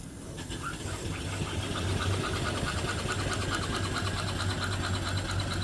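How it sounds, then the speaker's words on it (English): Antique steam engine with a boiler and overhead line shaft running quietly, a steady fast mechanical chuffing and clicking rhythm with a low hum underneath, even and continuous at moderate distance. "Very quiet running engine."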